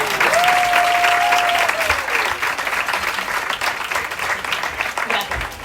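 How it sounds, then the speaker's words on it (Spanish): A live audience at a talk session claps loudly and continuously, dense applause with a brief whistle or cheer early on, tapering slightly toward the end. "Un aplauso o algo mientras pego, ¿no?"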